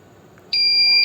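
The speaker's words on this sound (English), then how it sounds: "See buzzer beep, red light is on" The buzzer on a UV sanitizer's timer, part of an electronics project, starts abruptly after a quiet moment and gives one loud, steady, high-pitched electronic beep lasting about half a second.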